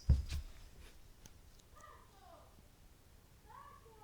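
A pet cat meows softly twice indoors, with faint drawn-out calls after a brief bump, quiet and close with no talking.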